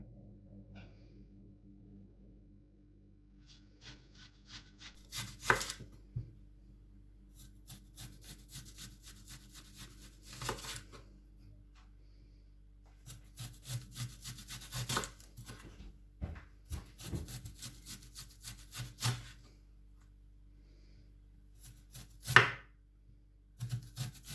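A knife slicing an onion into rings on a board, bursts of rasping cuts separated by pauses, close and quiet, with no talking.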